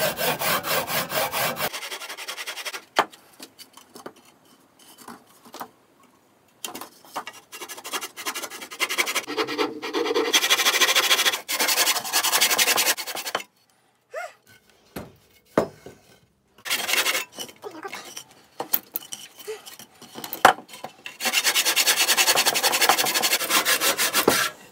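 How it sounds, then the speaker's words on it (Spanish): An old hand saw cutting through a piece of wood in long rasping strokes, loud and close, with brief pauses between runs of sawing and no voices. "así que he encontrado esta sierra y voy a intentar cortar la madera"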